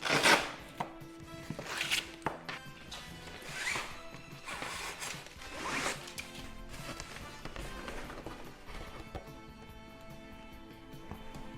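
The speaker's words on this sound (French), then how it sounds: "je vais donc ouvrir ces petites sangles" Straps being unfastened on the packaging box of a resin statue, giving a series of sharp snaps, rips and clicks in uneven bursts, close and fairly loud, with no talking.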